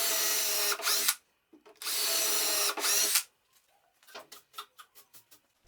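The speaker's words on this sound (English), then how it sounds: "Now I drill deeper the holes in the work table." A power drill bores holes into a wooden work table in two loud, whining bursts of about a second each, close by, followed by quieter short taps and clicks.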